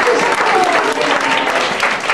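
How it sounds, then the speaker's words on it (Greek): A hall audience applauds steadily for the girls of a school wind orchestra, with dense, sustained clapping at close range that holds an even level throughout. "Οπότε ένα χειροκρότημα και γι' αυτό."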